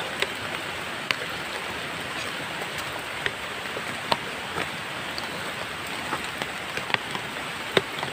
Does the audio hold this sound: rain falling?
yes